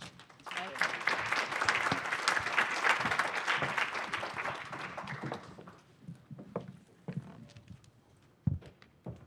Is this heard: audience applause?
yes